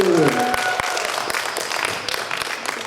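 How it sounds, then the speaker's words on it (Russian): Concert audience applauding a vocal ensemble at an anniversary show, a dense steady clatter of many hands, fairly loud and close, with brief vocal sounds at the start and a few sharper claps poking through. "Аплодисменты"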